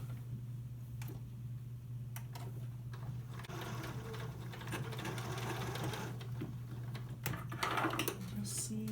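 Sewing machine closing the bottom seam of a fabric drawstring backpack, a steady mechanical stitching whir with ticking clicks over a constant low hum, fairly close.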